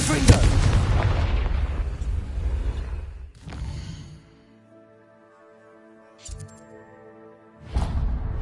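The Confringo spell detonates in Hogwarts Legacy as a loud, booming burst that rumbles and fades over a few seconds, followed by softer magical tones and ringing, with another swell near the end.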